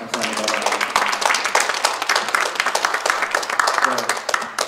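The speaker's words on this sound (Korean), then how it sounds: "우리 한번 감사의 박수 한번 드리겠습니다." A church congregation claps in thanks after a lecture on the missional church, dense sustained applause filling the room at close range.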